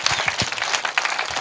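A congregation applauds in praise, brisk clapping of many hands with some sharper individual claps standing out, moderately loud and continuous with a faint voice underneath.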